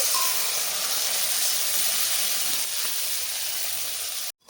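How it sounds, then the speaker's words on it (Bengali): A splash of water hitting hot spice masala with cumin powder in a pan, giving a broad, steady hiss and sizzle that holds evenly throughout before cutting off abruptly at the very end. "মশলাটার মধ্যে সামান্য একটু জল দিয়ে দিচ্ছি"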